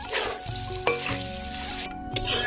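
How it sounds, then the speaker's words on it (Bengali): Ground chana dal paste with salt and turmeric fries in mustard oil, sizzling loudly and steadily while a utensil stirs and scrapes it at intervals. "এবার ডালটাকে একটু ভেজে নেব"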